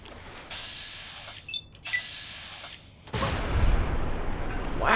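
A double-barrel shotgun fires in Fallout 3, with a heavy, loud blast near the middle that rings out into a long noisy tail. Earlier there are mechanical game sounds, and a second surge of sound comes at the end.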